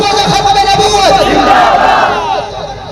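A large crowd at a religious gathering roars chanted slogans in unison as a response, a loud, swelling mass of voices that rises and then fades over a few seconds.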